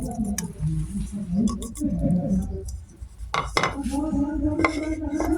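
Rhythmic knocks and clatters of pounding shrimp salad ingredients in a mortar, mixed with utensil clinks and faint background voices.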